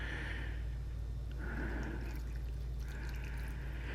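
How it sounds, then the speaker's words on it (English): Pickling liquid poured into a jar packed with red onions, a soft, continuous trickle and gurgle under a steady low hum, faint and close, with the flow rising and easing in a couple of waves. "You just pour it in."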